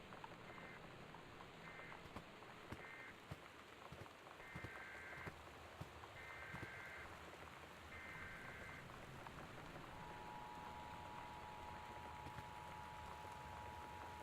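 Steady rain patters on surfaces during a storm in the video game Gone Home, a constant soft hiss under faint repeated electronic tones and a low hum, quiet throughout with no talk.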